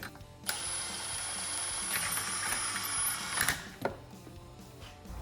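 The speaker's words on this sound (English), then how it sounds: "I'm just going to loosely tighten it up with the impact here, but not all the way." An impact wrench buzzes for about three seconds, snugging a bolt on the secondary clutch of a Ski-Doo P-drive, close and steady, followed by a couple of sharp metallic clicks.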